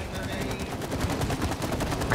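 Rapid gunfire from a co-op prison-escape video game, dense repeated shots crackling steadily for a couple of seconds at a consistent level, with a faint voice in the background.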